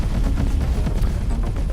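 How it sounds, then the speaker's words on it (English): Pulse cannons firing at a ship's hull in the space game Avorion, a dense, loud, continuous barrage of rapid impacts and low booms with no voice over it. "I'm pretty sure that some of those are pulse cannons too, because they are getting through the shield and hitting my hull"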